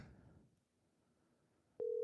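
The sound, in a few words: telephone call dialing tones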